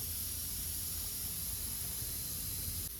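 A spray gun with a liner cup shoots primer onto the body of a 1979 Plymouth Volare wagon, a continuous broad hiss holding steady and fairly close for the whole stretch, no talk.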